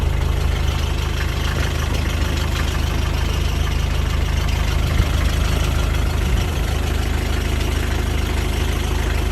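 A Land Rover Series 3 88 Utility engine idling with a steady low rumble throughout, close and loud with no talk.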